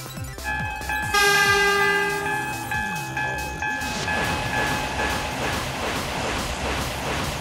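Electronic toy bullet train sounds from a Plarail set: a bright chime-like tone and horn up front, then a rumbling, clattering run of wheels on track, fairly loud and continuous.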